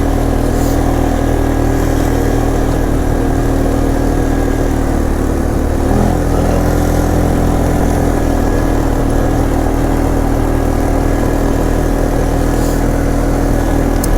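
Engine of a 2006 Polaris Sportsman 500 EFI ATV on a test drive, a loud, steady mid-pitched drone that carries throughout with only slight changes in load.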